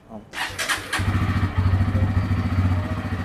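A new motorcycle being taken at delivery cranks with a brief starter whir, then catches and settles into a loud, close, rapid idle throb while people talk nearby.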